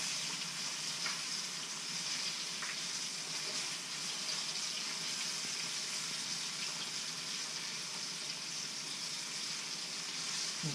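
Redfish fillets pan-frying in hot oil make a steady, even sizzle that holds unbroken throughout, close and moderately loud, with no one talking.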